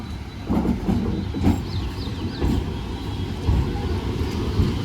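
A train runs past at Barasat junction, a steady loud rumble of wheels and carriages with rhythmic rail knocks and a faint high squeal, no talking.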